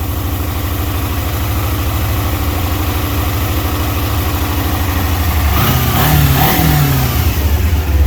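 A 2009 Kawasaki Ninja 250 motorcycle engine, quiet and stock, idles with a steady low throb, then revs up briefly near the end with a rising, growling burst before settling.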